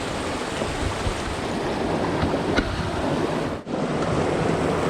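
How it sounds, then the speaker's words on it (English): A loud creek rushes steadily beside a Japanese trail, a dense continuous wash of flowing water with no voices, briefly dipping for an instant near the end. "the creek is a little bit loud"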